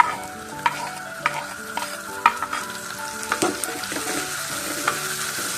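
Chopped tomato with green chillies sautés in a pan for a tuna (choora) fish curry, a soft sizzle running under frequent clinks and scrapes of a spoon stirring against the pan, close and moderately loud.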